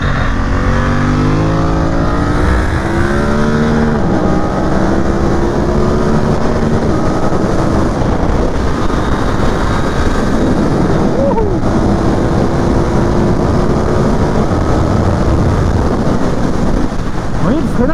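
A BMW F900R motorcycle on a race track, its engine droning and rising steadily through gear changes under constant wind roar at speed, loud and unbroken throughout.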